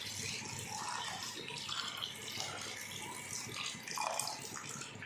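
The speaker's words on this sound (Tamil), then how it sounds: "அதுக்கப்புறம் தேவையான அளவு தண்ணி சேர்க்குறோம்." Water runs steadily, splashing into a pot of goat head curry gravy with a continuous hissing pour that swells briefly near the end.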